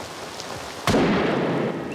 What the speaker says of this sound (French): La pluie! La pluie!